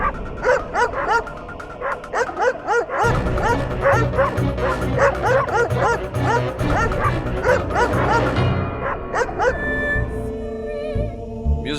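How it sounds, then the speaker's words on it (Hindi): Several dogs bark and yip in a rapid, overlapping chorus, loud and close, with the barking cutting off near the end to leave a quieter background. "कुत्तों का भौंकना बंद, योर ऑनर"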